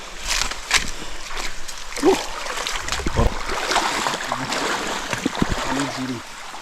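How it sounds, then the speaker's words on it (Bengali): Water from a waterfall at Srimangal pouring and splashing, a broad steady rush close by with scattered splashes and other bursts of noise on top, with a person talking over it. "পানির শব্দে মন পাগল হয়ে যায়"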